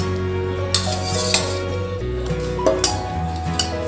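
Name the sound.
lifting fried jalebis out of hot oil with utensils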